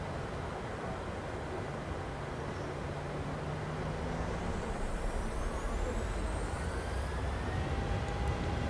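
Simulated PMDG 737-800 jet engines in Microsoft Flight Simulator spool up to takeoff thrust, a broad steady roar that swells gradually with rising whining tones, in cold, stormy winter conditions.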